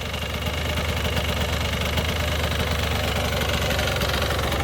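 A Blaster ATV engine idles steadily nearby with a rough, knocking, vibrating drone that holds constant throughout, alone with no voices.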